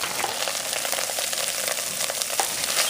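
Meat frying in a pan with a steady broadband sizzle and scattered crackles, stirred now and then, close and continuous with no talking.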